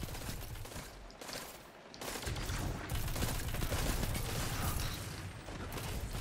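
Sustained gunfire and firefight noise during a Destiny match in the Curse of Osiris expansion, a dense, loud barrage running throughout with brief dips near the start.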